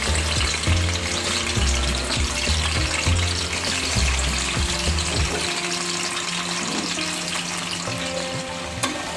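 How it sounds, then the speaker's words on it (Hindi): Chicken pieces fry in hot oil in a karahi for an Afghani chicken karahi, giving a loud, close, continuous sizzle with bubbling and occasional stirring knocks. "फिर हम इसमें चिकन फ्राई करेंगे"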